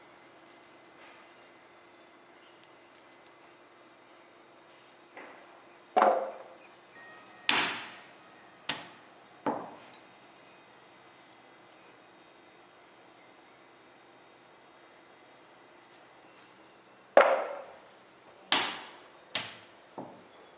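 Indian gooseberries (amla) being tapped to split out their seeds while making a batch of pickle; a few sharp, fairly close knocks come in small clusters with quiet gaps between them and no talk.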